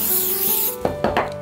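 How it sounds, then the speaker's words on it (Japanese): Repositionable spray glue hisses onto cardstock in one continuous burst, followed by a few short papery rubs and taps as the sheet is handled, all close up with no speech. "こちらは貼って剥がせるスプレーのりを使っています"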